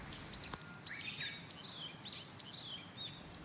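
Small birds sing outdoors in a rural coastal village in Cornwall: repeated quick chirps and short whistled phrases, fairly faint and distant, over a soft steady background hush.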